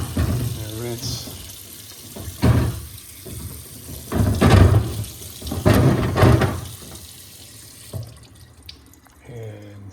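Tap water runs over a car headlight being rinsed during restoration, splashing in uneven bursts that swell and fade, with a person talking at the beginning and end.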